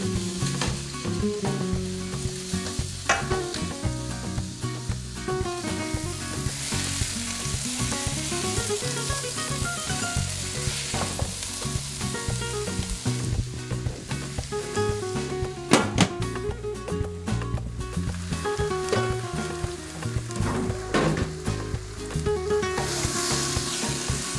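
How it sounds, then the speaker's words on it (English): Onions fry in a pan for mutton raan masala with a loud, continuous sizzle and crackle, while a utensil stirs and scrapes at intervals across more than twenty seconds. "Stir well until the onions are semi-translucent."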